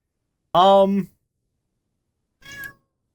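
A Ragdoll cat gives two meows close by, a loud drawn-out one followed by a shorter, quieter one after a pause of silence.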